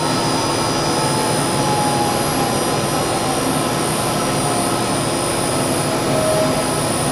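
Steady mechanical drone of a pump running on a Defender regenerative media filter, a loud constant broadband whir with no breaks throughout.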